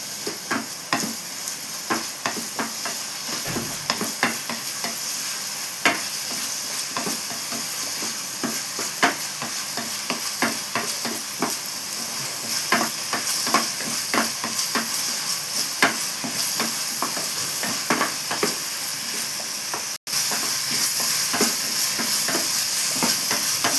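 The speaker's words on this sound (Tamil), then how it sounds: "நல்லா கிண்டிக்கணும்" Chicken gravy sizzles and hisses steadily in a pan while a spoon stirs it, with repeated scraping and clinking strokes over the continuous frying.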